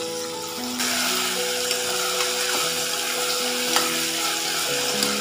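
Green chilies and a large tomato sizzle and crackle in hot oil in a pan while being stirred, a steady close frying hiss for a mutton curry, with occasional scraping clicks and no talk.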